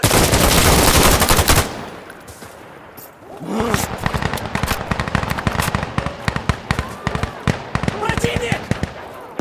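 Gunfire in the video game Insurgency Sandstorm: a dense, loud burst of automatic fire opens, then after a brief lull come rapid sharp shots and bursts in quick succession.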